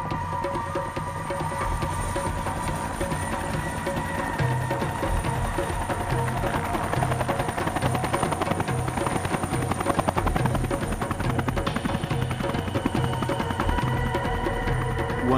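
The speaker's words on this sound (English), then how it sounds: "landing a helicopter can be tricky" A helicopter landing in the mountains of Oman, its rotor thumps and engine whine filling the air continuously, loud and close, throbbing steadily throughout with no voices.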